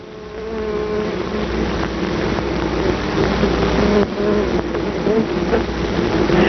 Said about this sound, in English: if it becomes too high, the bees fan their wings to cool it